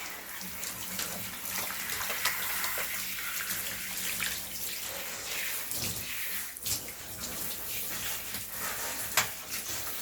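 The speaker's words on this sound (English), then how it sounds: "If you keep the shower head closer to the dog, it's actually less pressure than the water far away" Water sprays steadily from a handheld shower head held close while a dog is rinsed of shampoo during a home bath, a continuous close hiss with small splashing variations and no talk.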